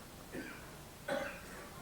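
Two short coughs, about a second apart, sound close by in a quiet room with no talking.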